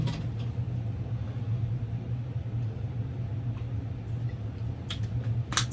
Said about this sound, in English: it's my furnace in the background